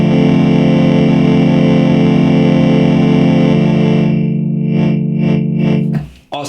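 A Moog Matriarch synthesizer plays an audio-rate LFO FM patch: a loud, buzzing, distorted sustained tone that holds steady, then shifts into a pulsing, warbling texture before cutting off abruptly.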